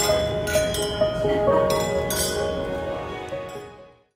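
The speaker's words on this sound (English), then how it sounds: "The sound of clinking glasses is the hidden trigger for this installation" Glasses clink together several times in quick succession, bright ringing tones that linger and slowly fade out.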